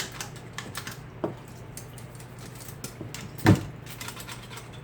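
A Remington typewriter is typed on at close range, producing irregular clacking keystrokes with a couple of louder mechanical thumps, and no one speaks over it.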